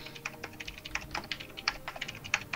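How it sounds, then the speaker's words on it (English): Rapid typing on a computer keyboard during a League of Legends session, a quick irregular stream of close, crisp key clicks with no voices. "Can you tell what I'm typing?"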